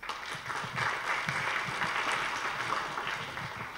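A forum audience gives a warm round of applause for an ambassador, with steady, moderately distant clapping sustained throughout.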